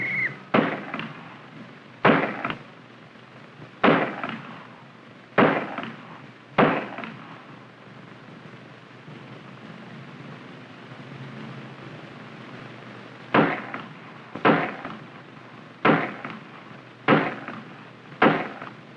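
Pistol shots crack on the FBI firearms range in 1959 archival footage, fired in two rhythmic series of five or six evenly spaced reports, separated by a quiet pause, heard over a constant hiss.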